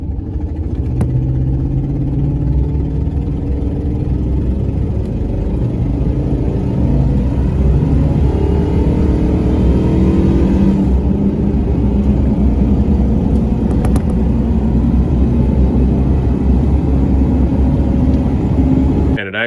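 GM 6.0 LS V8 vehicle driving under load with low fuel pressure and a misfire, a steady loud engine drone and road rumble heard from inside, continuous throughout.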